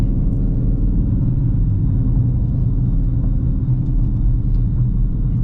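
A 2019 Dodge Charger R/T's V8 engine heard from inside while driving, a steady, loud low rumble that holds constant throughout with no talking.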